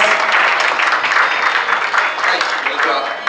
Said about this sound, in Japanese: どうぞ拍手お願いします。